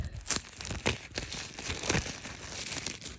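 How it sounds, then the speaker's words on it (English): Plastic shrink-wrap crinkles and tears off the Kiss Alive 1975–2000 box set from 2006, with close, busy crackling and a few sharper rips. "So let's unwrap this thing."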